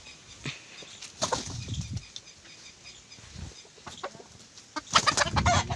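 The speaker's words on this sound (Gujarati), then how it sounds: "અને આપણો કુકડો" A rooster kept as a farmyard bird, heard nearby as several bursts of wing flapping and clucking scattered through a few seconds, with no talking over it.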